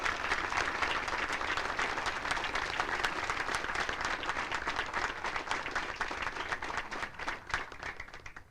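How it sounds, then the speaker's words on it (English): Sustained audience applause for awardees at a Fort Knox military graduation ceremony, a dense, steady wash of many hands clapping at close range that holds level throughout and thins only slightly toward the end. "Ladies and gentlemen, please join me in giving all the awardees a round of applause."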